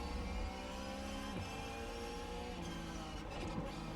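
A race car engine in the iRacing video game drones steadily throughout, with the pitch shifting under engine braking and a few brief gear changes, fairly quiet and without speech.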